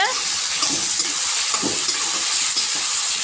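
Potatoes, carrots and peas frying with tomatoes in a pot for vegetable pulao, a strong, steady close hiss of frying with soft stirring scrapes beneath it.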